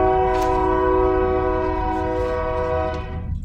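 A train passes near City Hall in Sheridan, its horn sounding one long, steady blast over the rumble of the rail cars. No one speaks.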